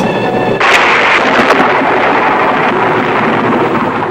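Thunder cracks out of a clear sky in the 1966 film Red Zone Cuba, a loud sudden boom that rolls into a sustained rumble over a dense, noisy soundtrack.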